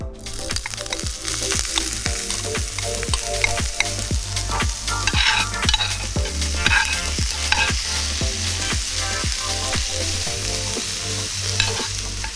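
Pork belly sisig with oil and calamansi sizzles loudly and steadily on a hot plate, with a regular run of sharp scraping stirs and clacks from a utensil throughout, without any talk.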